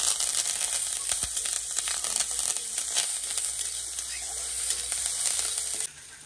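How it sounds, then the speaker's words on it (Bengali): Panch phoron spices and onion sizzle in hot oil with a bright, continuous frying hiss and crackle, close and steady, that drops off abruptly at the end. "তেল গরম হয়ে গেছে, ফোড়নে যে পাঁচফোড়ন দিয়ে দিচ্ছি, পেঁয়াজ"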